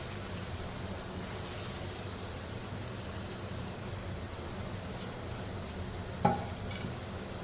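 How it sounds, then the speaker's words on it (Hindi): Boiled milk poured into hot roasted maida in a pan for barfi, a steady hissing sizzle throughout with one sharp clink of a utensil near the end, close and with no voices. "अब मैं इसके अंदर डालूँगी जो हमने दूध बना के रखा हुआ था"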